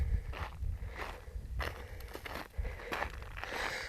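Close, crunchy footsteps at a steady walking pace on gritty, crackling salt flats, with no talking.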